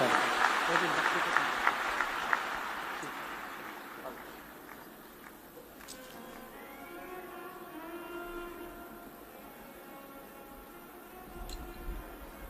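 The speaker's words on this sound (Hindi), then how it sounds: "एक बार जोरदार ताली बजाते हैं।" A large gathering at a live Shiv Mahapuran religious discourse claps loudly at first, then the applause fades over a few seconds as a voice continues talking.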